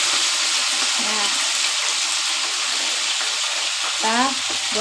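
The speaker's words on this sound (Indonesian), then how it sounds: "kita goreng sampai selesai" Mixed fish sizzles and crackles frying in hot oil, a steady close frying hiss with faint voice-like murmurs briefly rising above it.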